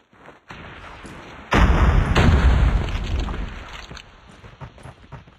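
Grenade explosion in Call of Duty Mobile, a loud close boom bursting out of lighter background noise and then rumbling and fading over a few seconds.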